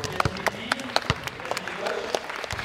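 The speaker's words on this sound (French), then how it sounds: "On peut les applaudir." Children, coaches and onlookers at a U11 mini-basketball refereeing session give scattered, uneven applause, with individual claps standing out. Voices from the group carry underneath.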